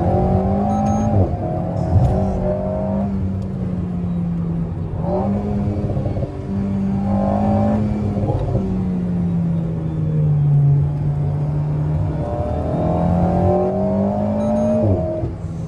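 Alpine A110 sports car engine revving steadily while driving, a loud continuous rumble with rising and falling pitch sweeps as the revs climb and drop, close and sustained with no talking.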